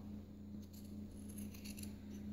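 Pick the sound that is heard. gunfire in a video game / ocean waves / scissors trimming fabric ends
scissors trimming fabric ends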